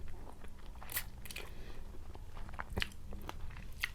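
Someone eats a Thai boiled frog dish close to the microphone, with a few sharp crunchy bites and soft chewing spread over a few seconds against a low background hum.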